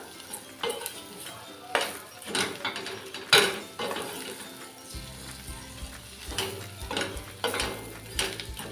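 Cut potatoes and vegetables being mixed in a pot for a bottle gourd and peanut amti, with repeated close clinks and scrapes of a spoon against metal at an irregular pace.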